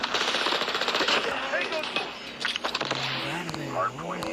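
A sentry gun in a Call of Duty-style shooter fires in fast, rattling automatic bursts among other gunfire and game sounds, loud and close, with a voice speaking over part of it.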